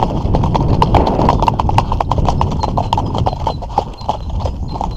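Horse hooves in a fast rhythmic clip-clop on a trail ride at a raised gallop, loud and close, with steady continuous beats and faint wind or movement noise.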